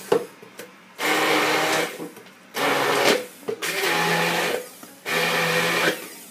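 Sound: immersion blender blending arugula pesto with olive oil

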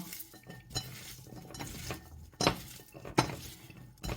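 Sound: mixing shallots with oil in a bowl

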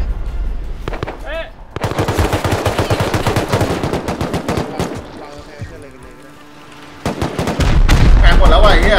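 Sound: gunfire in the video game Rust

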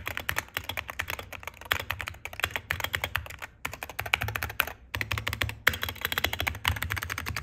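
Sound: typing on Wooting analog gaming keyboard

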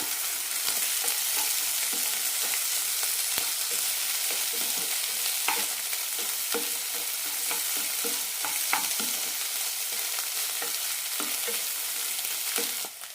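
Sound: stirring jackfruit seed and egg stir fry in pan

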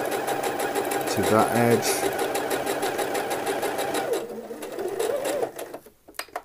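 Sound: sewing machine stitching shirt collar

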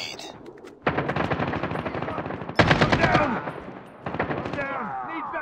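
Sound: gunfire in Call of Duty Mobile video game

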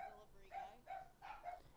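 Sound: dogs barking

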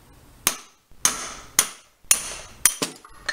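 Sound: hammer striking socket and extension to drive out Honda Forza wheel bearing

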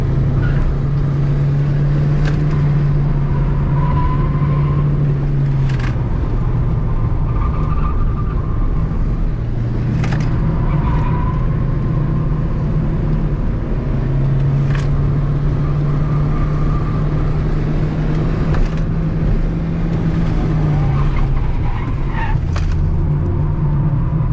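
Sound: Toyota Starlet rally car driving fast

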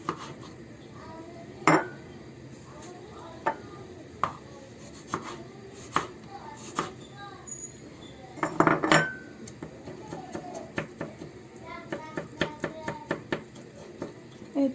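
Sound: knife chopping tomatoes into small pieces

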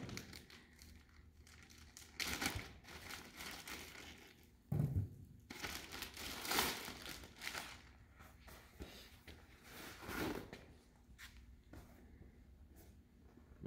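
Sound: unboxing sandblast cabinet window protection parts, packaging crinkling

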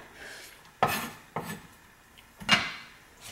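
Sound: knife chopping garlic on a board

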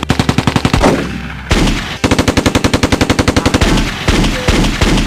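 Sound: gunfire shots in an action film teaser

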